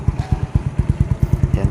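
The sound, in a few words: Motorcycle with Exos RX7 exhaust, Yamaha Mio Soul i125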